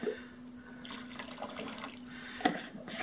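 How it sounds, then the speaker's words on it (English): Water pours in a steady thin stream into a small bowl of cornstarch to make a slurry for a slow cooker pork tenderloin glaze, with a light splashing trickle close to the microphone. "I'm just gonna add a little water to that."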